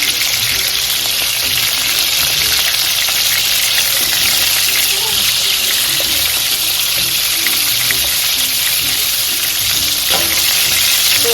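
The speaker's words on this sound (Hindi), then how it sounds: "आप देख रहे होंगे कि छींटे कितने ज़्यादा हो रहे हैं" Chicken garlic bites fry in hot oil with a steady, loud sizzle and crackle, spattering oil throughout; occasional faint kitchen clatter sits underneath.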